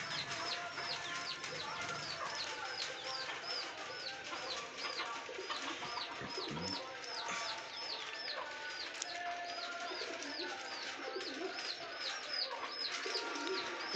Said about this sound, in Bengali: সব পায়রাগুলো এখানে রয়েছে